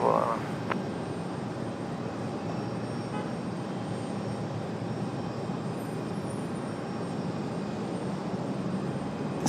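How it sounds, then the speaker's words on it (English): A 33-year-old ATR turboprop at Raleigh Durham International Airport gives a steady, droning engine roar that holds at an even loudness, with a brief higher whine near the start. "There's our 33-year-old ATR."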